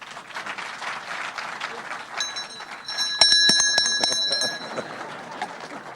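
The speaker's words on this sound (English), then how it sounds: "the bell ringing ceremony" A bell rung at a ringing ceremony for the launch of a stock exchange market place, with bright repeated metallic strikes over applause and a crowd murmuring.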